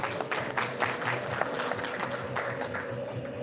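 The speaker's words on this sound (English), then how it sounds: "A big round of applause for Mr. Rajesh Agarwal." A live audience claps for a guest at a cyber awareness campaign event, a dense, steady patter of many hands filling the hall at moderate volume, with a faint tonal hum running underneath.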